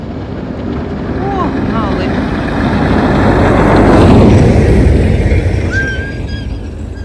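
A snowplow clears a road in wintry northern Sweden, its heavy engine rumble swelling as it passes close by and then fading, with a few brief high whistle-like tones over the roar.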